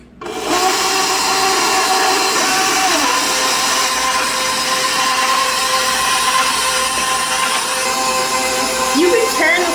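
An electric stand mixer whirs steadily for several seconds, mixing garlic breadstick dough in a bowl, a loud constant motor drone with a brief shift in pitch near the end.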